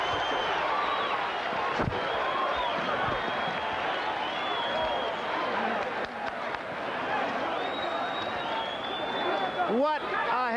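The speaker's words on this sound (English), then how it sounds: "Listen to the crowd." A boxing arena crowd roars and cheers steadily after a heavyweight championship fight, loud and dense throughout, with a commentator's voice faintly mixed in.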